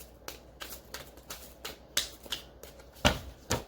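Tarot cards being shuffled up close, soft riffling bursts in an irregular rhythm, quiet with no talking.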